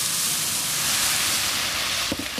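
Steady loud hiss of water hitting a hot pan and steaming with stir-fried pak choi, a dense continuous sizzle close by, with a few faint clatters near the end.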